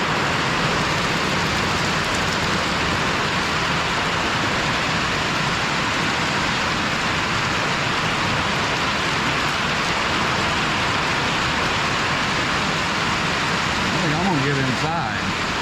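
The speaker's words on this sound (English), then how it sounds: "Get a little bit of a hailstorm." A hailstorm sounds as a dense, constant patter of hailstones striking outdoor surfaces. The hiss stays loud and even throughout, with a faint extra sound near the end.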